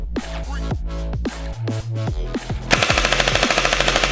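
A Kestrel V2 airsoft AEG firing with its rate of fire limited to 50%: a few separate shots with clicking mechanism sounds first, then a steady, fast, evenly spaced burst, loud and close.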